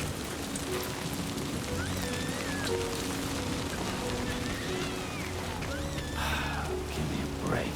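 Timefall rain in the video game Death Stranding 2 patters steadily and evenly on surfaces, with faint whistling and chirping tones drifting above the continuous downpour.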